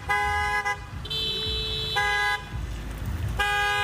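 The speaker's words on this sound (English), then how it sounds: "drivers honking as they tried to dodge a tree that came down on Laurel Canyon Boulevard" Several car horns honk in repeated blasts on a rain-soaked Studio City street as drivers dodge a fallen tree on Laurel Canyon Boulevard, loud and close over steady traffic rumble.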